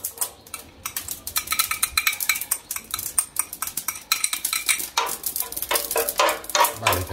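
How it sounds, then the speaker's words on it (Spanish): Chopped onion goes into a hot pan for black rice with cuttlefish and squid, giving a steady close sizzle broken by repeated scraping and stirring clatter of a utensil against the pan. "vamos a ir echando la cebollita"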